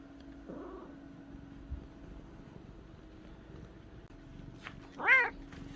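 A cat gives a short, faint meow, then a louder, higher cry a few seconds later, over quiet background hum.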